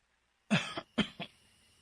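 A person lets out a short burst of three dry coughs close by, then falls quiet.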